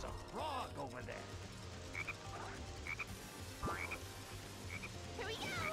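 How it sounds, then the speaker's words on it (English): Sonic Heroes frogs croak in quick, repeated bursts over steady game music, with a few other sharp in-game effects mixed among the calls. "Hey, there's a frog over there."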